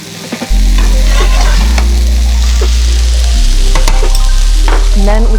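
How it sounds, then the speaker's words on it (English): Bulgur wheat tossed with spices in a pan on the stove, a steady sizzle with repeated scraping stir strokes close up, no talking. "Stir in those spices around that bulgur wheat."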